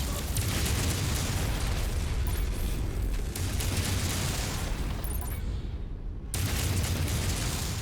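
Explosion in the mech combat game MechWarrior 5, a loud, sustained roaring rumble with crackling bursts that fades into a brief lull before the blast noise returns.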